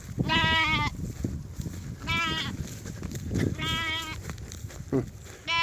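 Repeated wavering bleats from sheep, several calls in a row with short gaps, fairly close, over a busy outdoor background.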